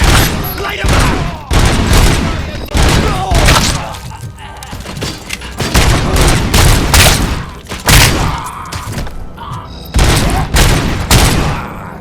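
Dense gunfire rattles through a RoboCop: Rogue City firefight, loud rapid bursts and heavy impacts coming in waves for twelve seconds with little pause.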